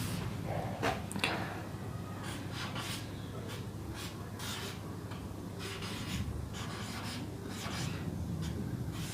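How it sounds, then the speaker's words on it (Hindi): Marker or chalk strokes on a classroom board during a chemistry lesson, a steady run of short scratchy writing sounds repeating across the clip with a faint room hum underneath. "मैं थोड़ा और इसे अच्छा लिख दूंगा।"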